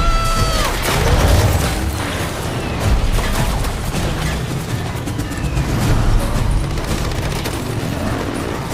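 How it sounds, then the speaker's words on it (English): A dense action scene from Mad Max: Fury Road, with rapid gunshot impacts crashing against the rig over heavy low rumble and a roaring engine, all loud and layered together with no clear gaps. "the diegetic sounds of Furiosa shouting, gunshots hitting the rig, the engine starting, and Furiosa's movements on the sand"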